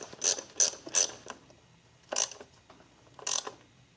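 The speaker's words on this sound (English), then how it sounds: "This is also a 1/4 inch socket. This is on the throttle body hose clamp." A 1/4 inch socket ratchet clicks in quick close-up bursts while loosening a throttle body hose clamp on a Suzuki Forenza engine. Three fast runs of clicks are followed by two more after short pauses.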